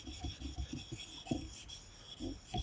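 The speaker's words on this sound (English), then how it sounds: "And then I go on to a ceramic stone, which is obviously a lot finer." A woodworking blade rubs back and forth on a fine ceramic sharpening stone in short, rhythmic scraping strokes, close and fairly quiet, with no talking.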